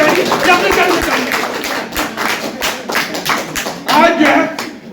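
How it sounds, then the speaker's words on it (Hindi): Audience clapping at a forest department farewell party honoring a range officer, a steady dense patter with scattered sharper claps, close and fairly loud, with voices mixed in. "और इनके लिए जोरदार ताली होनी चाहिए"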